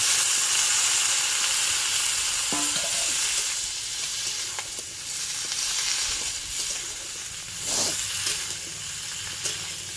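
Chopped vegetables tossed into a pan of fried shrimp, giving a loud, dense sizzle that slowly eases, with occasional spatula knocks and stirring scrapes.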